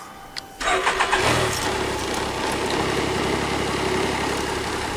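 A couple of faint clicks, then a BRP Can-Am motorcycle engine with 20,000 km cranks and catches, settling into a steady, loud rumbling idle up close.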